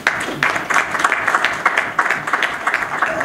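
Warm applause from a gathered crowd honouring Mme Dieba at a women's consortium event in Mauritania, steady and full with individual claps standing out.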